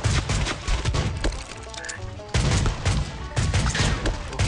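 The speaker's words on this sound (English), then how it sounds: "it can shoot 3 times." A gun in the video game Swamp Attack 2 fires in rapid bursts, with loud, cracking blasts clustered at the start and again near the end and a quieter gap between.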